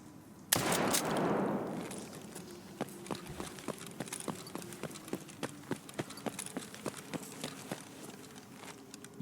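One loud gunshot in the single-player Escape from Tarkov shooter, ringing out with a long echoing tail, followed by a steady run of footsteps.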